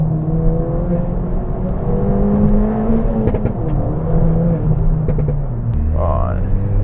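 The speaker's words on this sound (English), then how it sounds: "Right, turning traction all the way off. So we get a bit of wheel spin." Ford Fiesta ST spinning its wheels with traction and stability control switched off, a steady, loud engine drone with rising and falling harmonics that holds for several seconds and drops in pitch near the end.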